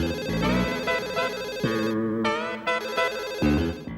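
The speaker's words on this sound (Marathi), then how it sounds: "पूर्ण रिंग वाजली, बहुतेक ती अजून घरी पोहोचली नाहीये." A telephone rings on and on without being answered in a sitcom household scene. Its repeating melodic ringtone pulses in regular bursts, clear and fairly loud.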